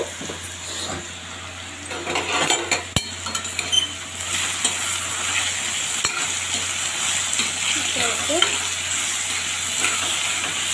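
Potatoes frying with ginger garlic paste, a steady sizzle heard up close while a spoon scrapes and clinks against the pan in bursts, including a couple of sharp metallic knocks; no talking.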